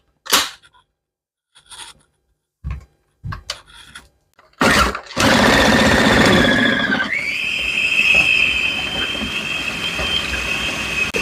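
An electric food chopper mixes minced meat with browned onions: a few sharp clicks and clunks, then the motor bursts into a loud, close whirring grind that settles into a steady high whine through to the end.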